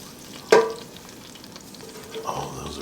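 Chicken thighs are flipped in a Midea two-zone air fryer basket: one sharp scrape and clatter near the start, then a faint sizzle and a soft second shuffle, close and without speech.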